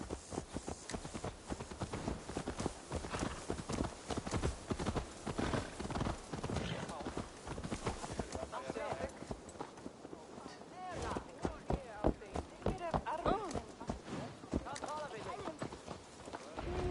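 Horse hooves from Assassin's Creed Valhalla clip-clop in a quick, steady rhythm throughout, with the gait changing pace partway through and game voices talking over it.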